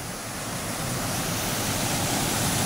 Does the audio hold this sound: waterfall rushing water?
yes